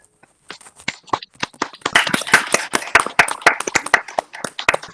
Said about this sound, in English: can we have a round of applause for Anila first before going further?